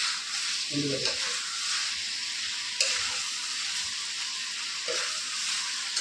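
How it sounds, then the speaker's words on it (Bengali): Onions frying in ghee in a pan for Dakbanglo chicken give off a steady, close hiss of sizzling, broken by a few soft clinks and stirring knocks. "পেঁয়াজটা ভালোই ফ্রাই হয়েছে। আমি ঘি দিচ্ছি"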